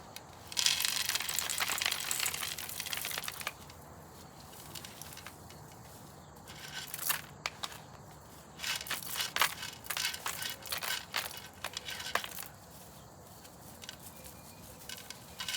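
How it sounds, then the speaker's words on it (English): Gravel is tipped out of a plant pot, giving loose crunching, rattling and pattering in uneven bursts, close by and fairly faint. "I have to dump the gravel out of here."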